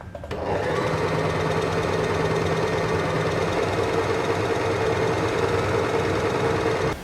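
A Singer sewing machine starts up and runs at full speed, a steady rapid mechanical whir with fast rhythmic ticking, close and constant.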